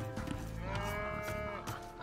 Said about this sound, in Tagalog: Ang ingay ng mga baka.